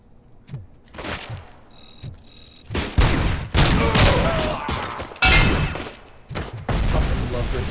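Gunfire in the RoboCop: Rogue City video game, including ricochet shots: loud, repeated bursts of shots with heavy booms and sharp impacts, mixed with brief voice fragments.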